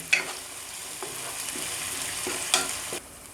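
Ginger garlic paste fries in a pan for gongura chicken, giving a steady soft sizzle with a few sharper clinks and scrapes of stirring, close and moderately quiet, with no talking.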